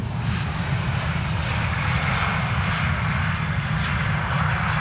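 An airliner at Amsterdam airport, a four-engine type resembling an A340 Neo, roars with a loud, steady broadband engine noise that holds constant throughout, with no voices.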